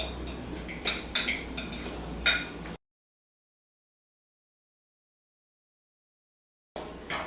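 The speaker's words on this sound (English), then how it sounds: "now we're ready to fluff everything together" Fork or whisk clinks and scrapes against a bowl while deviled egg yolk filling is whipped until fluffy, a series of sharp close taps in quick bursts, then a long silence before more stirring resumes.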